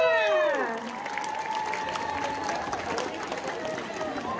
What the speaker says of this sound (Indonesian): Sekali lagi beri tepuk tangan untuk Haifa